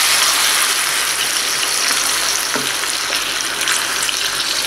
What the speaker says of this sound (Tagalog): Then, ilagay na rin natin yung coconut juice.